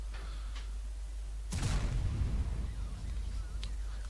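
A Grille 15 tank destroyer in World of Tanks fires a shell: a single loud, booming blast that cuts through a steady low battle hum, then decays into a rumbling tail.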